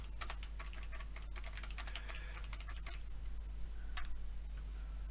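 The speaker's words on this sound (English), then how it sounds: "My typing, I would like to say, is getting better, but it's just really not." Someone types on a computer keyboard while working in a spreadsheet, giving rapid irregular key clicks in quick bursts that thin out and then pick up again, over a steady low hum.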